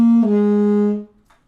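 A beginner-style saxophone tone played with a locked tongue: a single short, buzzy, nasal note held about a second, shifting pitch slightly near the start, then cutting off into quiet.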